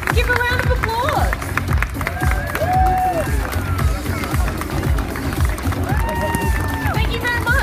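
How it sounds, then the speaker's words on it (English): An audience at Gammacon, a cosplay convention, claps and cheers for a costumed contestant, a dense burst of crowd applause with shouts, heard amid loud hall noise and a voice over a speaker. "Give a round of applause."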